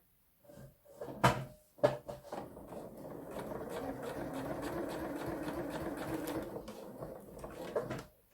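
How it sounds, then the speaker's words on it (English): A sewing machine runs forward along a seam, binding edges with matching thread: a couple of sharp clunks at the start, then a steady, close mechanical whir of rapid stitching that ends abruptly, with no talk. "So I'm going to stitch forward."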